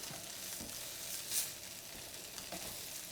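Chicken fries in a pan for chicken parmesan, with a low, continuous sizzle and a couple of soft stirring scrapes, quiet and fairly distant.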